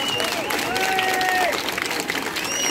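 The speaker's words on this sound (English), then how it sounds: "Another big applause for this beautiful performance." Audience applause after a folk choir's performance at a folklore festival in Paralia, Greece, a dense sustained burst of clapping from a large crowd with some cheering and whistle-like tones over it.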